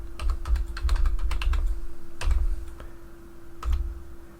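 Someone types a password on a computer keyboard in a Linux setup, with several quick bursts of close key clicks separated by short pauses over a faint steady hum.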